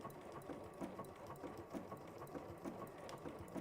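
Sewing machine stitching at a steady, even rhythm, a continuous low mechanical whir with regular ticking, close and fairly quiet, with no talk over it.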